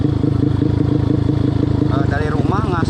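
Two people ride a modified underbone motorcycle, its engine pulsing loudly and rhythmically close by as it revs and climbs in pitch. A voice talks over the engine throughout, and a rising whine appears near the end.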